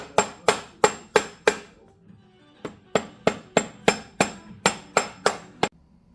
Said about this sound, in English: after a few good whacks, it has been seated.